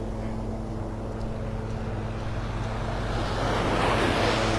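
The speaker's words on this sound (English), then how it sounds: "There's a mosquito helicopter coming up the beach." A mosquito control helicopter flying along the shoreline at a Gulf Coast beach in North Naples, Florida, a steady low rotor drone building as it approaches, mixed with surf and wind.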